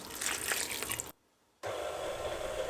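Water poured from a tap or cup into flour for baklava dough with baking powder, vinegar and salt, a steady splashing stream that stops briefly, then resumes as a fainter running flow, heard alone and close.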